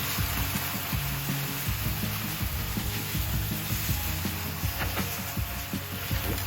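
Bulgogi and kalbi, Korean BBQ meats, sizzling on a grill, a steady close crackle with scattered pops and light scraping running without pause.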